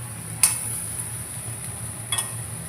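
Eggplants fry in a pan with a soft, steady sizzle, broken by two sharp utensil clinks against the cookware.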